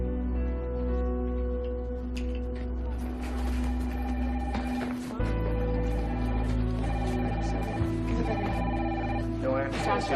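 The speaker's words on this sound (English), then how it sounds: "Phones have been ringing all morning." Office telephones ring steadily in a busy newspaper newsroom, with a constant electronic trill layered over a hum of background activity. It stays loud and continuous throughout, and voices can be heard in the room.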